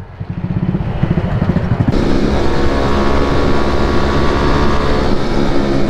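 A motorcycle engine runs loud and close, its steady rumble rising and then holding level as it moves by, with no talking.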